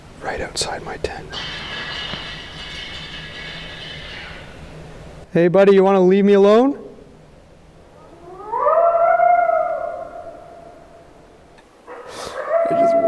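A coyote right outside a tent at night in the early morning hours, whining and yipping in drawn-out rising calls that come in separate bursts, with a person whispering close by.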